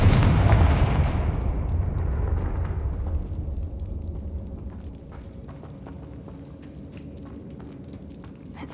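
A Confringo spell blast from Hogwarts Legacy goes off as one loud, close explosive boom that decays into a long rumbling tail, with light debris and clatter trailing behind.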